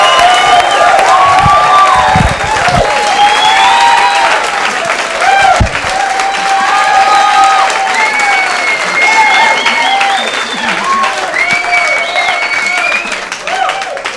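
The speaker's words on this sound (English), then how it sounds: "Please, a nice round of applause for Tom Brown." A comedy club audience applauds and cheers as comedian Tom Brown is introduced, with loud, steady clapping and a few whoops throughout, and a voice talking over the noise.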